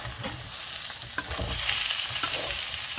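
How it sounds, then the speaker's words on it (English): Rice fries and gets stirred in a pan, a steady sizzle broken by scraping stir strokes and small clatters, close and fairly soft with no talking. "Fry the rice until it is dry or looks dry."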